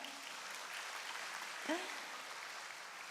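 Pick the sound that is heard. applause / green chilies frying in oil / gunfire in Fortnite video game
applause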